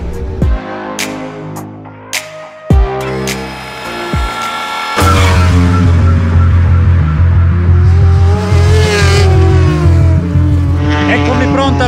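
A racing motorbike at the Mugello circuit near the San Donato corner screams past at high revs, with rising and falling engine tones and shifting pitch, loud and close, while people talk nearby.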